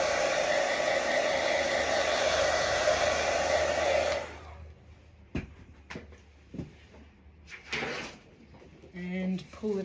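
A gel plate print is dried with a loud, steady blower roar that runs for about four seconds and then cuts off. Scattered clatter from handling supplies follows, with a person speaking.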